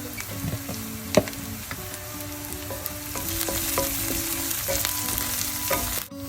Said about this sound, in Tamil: வெங்காயம் பச்சை மிளகாய்க்கு கொஞ்சமா உப்பு சேர்ப்போம். பொரிக்கட்டும் நல்லா.